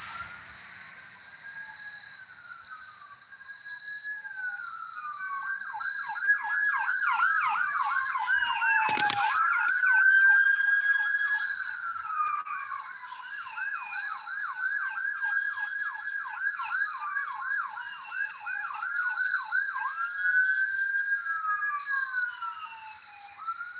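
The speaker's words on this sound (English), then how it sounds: "I really hear ambulances now." Ambulance sirens wail and yelp from a distance on a farm, rising and falling in long cycles as they pass, over a constant high chirring of crickets, with a brief sharp knock midway.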